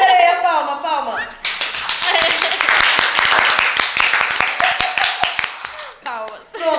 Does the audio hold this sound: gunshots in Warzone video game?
no